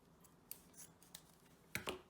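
Scissors snipping off the knotted end of a balloon while making a stress ball. A few faint, sharp snips sound close by, with the last two cuts quick and louder.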